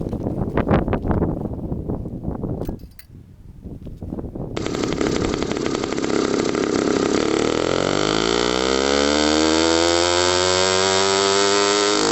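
A small 80cc two-stroke motorized bicycle engine with its muffler cap removed runs on a dyno: after brief handling noise it starts and revs up, a loud, raspy, continuous buzz climbing steadily in pitch and holding high to the end.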